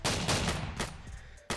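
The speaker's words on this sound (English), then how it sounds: "Gunshot. Another gunshot." Gunfire in a Roblox tower defense game rings out as several sharp shots, a few loud cracks in quick succession with a last burst at the end, and no speech over them.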